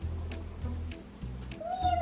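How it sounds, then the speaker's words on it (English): A cat meows, in a short sequence of mewing calls over a steady low background, ending on a rising, drawn-out meow. "That is what a cat says."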